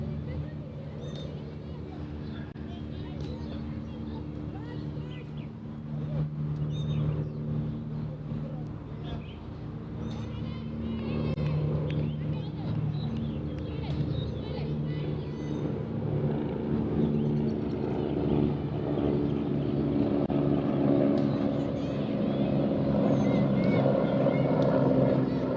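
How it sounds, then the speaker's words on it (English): A helicopter passes overhead during a women's cricket match in Hong Kong. Its low, steady rotor drone slowly swells louder under ongoing commentary. "Helicopter going overhead."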